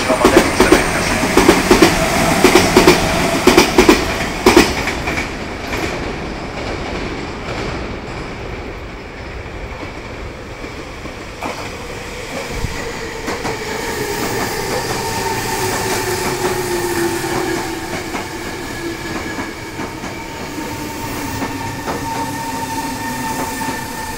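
A Tokyu Den-en-toshi Line 5000 series local train rolls into Kasukabe Station with rhythmic clacking, then slows as its wheels squeal in a long, drawn-out screech.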